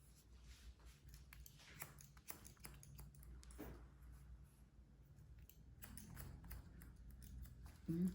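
Scissors snip repeatedly in quick, irregular bursts while point cutting hair into a tight bob at the back of the head, close and crisp over a quiet salon background.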